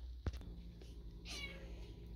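A pet cat gives a single short meow indoors, near and fairly clear over a steady background hum.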